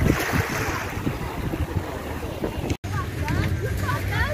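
Sea surf on the Koktebel coast in Crimea washes continuously beneath strong wind buffeting the microphone, a broad steady rush with a brief dropout near the middle.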